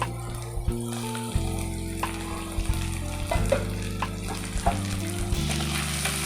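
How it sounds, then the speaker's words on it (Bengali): Ginger garlic paste frying with lightly browned onions in a pan for jackfruit kalia, a steady loud sizzle with occasional stirring taps, accompanied by a sustained low background hum. "ভালো করে আদা রসুনটা ভেজে নেব যাতে আদা রসুনের কাঁচা গন্ধটা চলে যায়"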